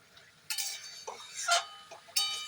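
A spoon clinks and scrapes against a pan while banana flower curry with ghee and garam masala is stirred, several quiet, irregular metallic strokes spread across the moment.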